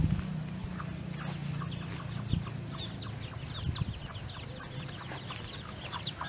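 Chickens cluck and peep in a Thai yard, a flock of birds chattering in many short, irregular calls over steady low background noise, fairly faint and with no talking.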